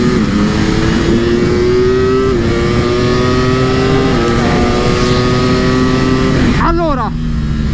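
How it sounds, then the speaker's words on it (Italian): A Ducati V4R motorcycle on its stock exhaust in road mode roars loudly at speed, its tone climbing through gear changes with brief dips, then a sharp rev drop near the end. "La sto usando in modalità completamente originale, scarico di serie, quindi modalità stradale"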